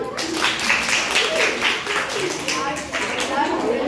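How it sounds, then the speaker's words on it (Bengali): An audience at a school quiz contest on rainwater conservation claps loudly and continuously as broad, dense applause; voices mingle faintly under it. "তাহলে জোরে হাত তালি হয়ে যাক"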